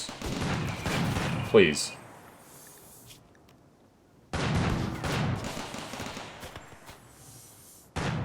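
Bursts of rapid gunfire from a RimWorld firefight crackle in two dense volleys with a pause between, then start again at the end, with a voice briefly speaking over them.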